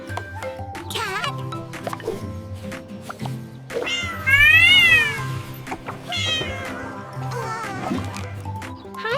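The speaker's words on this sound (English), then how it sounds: "Cat." A cat meows repeatedly, several distinct rising-and-falling calls of varied length, one long loud wail in the middle, close and clear with a soft background bed.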